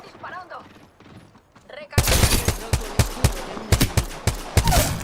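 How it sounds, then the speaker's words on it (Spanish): Gunfire in a shooter video game: after a quiet stretch with soft talk, a loud, close run of repeated gunshots in quick irregular bursts takes over. "Están disparando."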